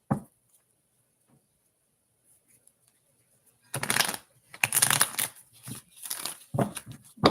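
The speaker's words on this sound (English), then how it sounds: "Give these a good shuffle here." Tarot cards are shuffled by hand during a live reading, a quiet start giving way to several bursts of close, crisp riffling and rustling that come in uneven spurts toward the end.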